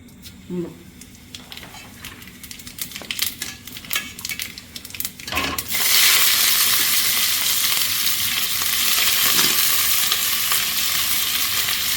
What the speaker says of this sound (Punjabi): ਤੇਲ ਆਪਣਾ ਗਰਮ ਹੋ ਗਿਆ ਥੋੜਾ ਜਿਹਾ ਮੈਂ ਜੀਰਾ ਪਾ ਲੈਣੀ ਆ ਪਹਿਲਾਂ ਇਹਦੇ ਵਿੱਚ